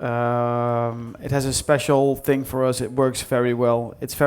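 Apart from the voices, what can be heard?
No everyday noise stands out behind the speech.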